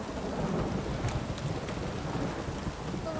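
Steady heavy rain hisses throughout in the video game The Witcher 3, with low rumbling thunder rolling underneath; a continuous, dense storm wash with no voices.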